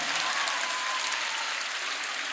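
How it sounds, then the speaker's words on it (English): Audience applause fills the hall at a live event after a dance performance, a dense, even wash of clapping that holds steady throughout, with no voices over it. "Give her a big applause."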